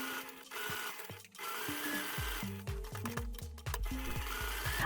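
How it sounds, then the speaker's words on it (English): A sewing machine stitches two lining pieces together, its motor whirring steadily with rapid rhythmic needle thumps, close and loud, with brief pauses between runs. "I sew 2 lining pieces."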